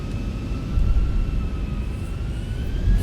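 Jet engines of an airliner in the X-Plane 11 flight simulator spooling up to TOGA thrust during extreme windshear, a steady low roar with a faint rising whine, no talk.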